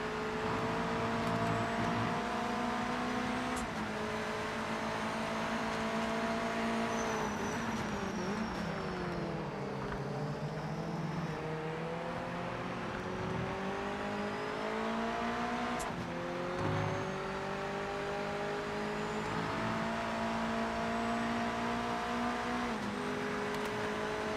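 Race cars in Project Motor Racing on PS5 keep up a continuous, loud engine whine that dips and climbs in pitch through gear changes and braking, with other cars droning alongside.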